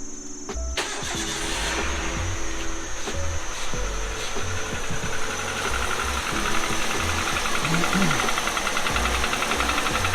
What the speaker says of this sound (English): The engine now doesn't make that much of a knocking sound.